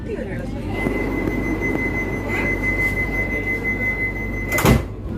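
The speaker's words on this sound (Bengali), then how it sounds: "দু মিনিট দাঁড়িয়েই এগারোটা নয় কটক জংশন ছাড়লো" The Howrah–Puri Vande Bharat Express pulls out of Cuttack Junction with a rolling rumble, a sustained high wheel squeal and a sharp loud burst near the end, while voices murmur in the background.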